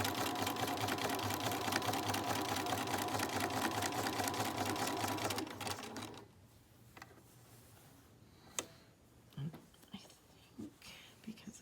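A sewing machine stitches fabric patches in a fast, steady run for about six seconds, then stops, leaving a quiet room with a few faint clicks and handling noises.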